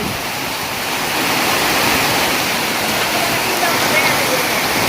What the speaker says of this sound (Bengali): অনেক বৃষ্টি বৃষ্টি এবং বাতাস, অনেক বৃষ্টি বাতাস।